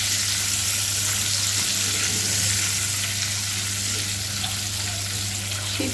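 Eggs fry in a pan beside a pot of chana dal, giving a steady, dense sizzle that crackles evenly without a break, with a low hum underneath.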